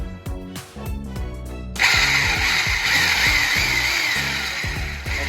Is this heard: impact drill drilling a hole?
yes